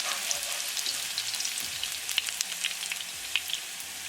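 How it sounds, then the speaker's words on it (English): Garlic fries in oil in a karahi, a steady close sizzle with small crackling pops throughout the short stretch, heard alone with no voices. "Now in the same karahi, bring garlic. Cook until raw garlicky flavor is gone."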